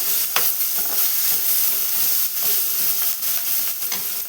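Chili powder being stirred into leaves frying in a pan makes a steady, close sizzle. Intermittent scraping strokes of the spoon cut through the hiss, and no one speaks.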